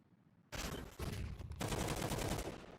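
Rapid bursts of pistol gunfire in a Counter-Strike match on the Anubis map, dense overlapping shots starting abruptly and continuing loud and near without pause.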